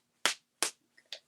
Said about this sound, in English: You hear the clapping?